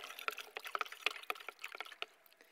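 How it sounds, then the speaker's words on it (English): A stock cube being stirred into boiling water in a kitchen pot, giving a run of quick, light liquid sloshes and clinks close by, with no talk. "Give it a bit of a stir."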